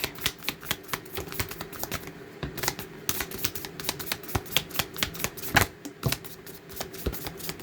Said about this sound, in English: So we're done shuffling.